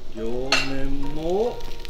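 A steady sizzle of a cauliflower vegetable pancake frying in a pan, with a drawn-out, voice-like tone rising and falling over it for about a second.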